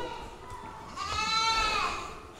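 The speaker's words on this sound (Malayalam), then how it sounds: "ഇപ്പൊ ഇവിടെ ഒരുപാട് പെണ്ണാടുകളുണ്ട്." Female goats bleat in a pen on a large goat farm in Kerala, one loud, wavering bleat rising over a faint background murmur of the herd.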